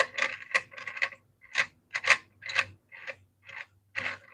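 Knife blade drawn across a 2000 grit stone on a homemade sharpening rig, a series of about a dozen crisp scraping strokes in a steady rhythm, close and alone.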